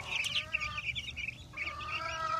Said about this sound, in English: These are the meat birds, the Cornish crosses.